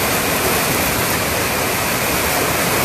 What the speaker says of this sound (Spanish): Miren, la fuerza que tiene el agua.